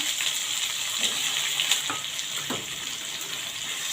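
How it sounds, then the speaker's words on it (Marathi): Chopped tomatoes sauté in oil for chutney, giving a steady, close hiss and sizzle with a few soft stirring scrapes throughout. "टॉमॅटो परतून घेऊया तेलावर"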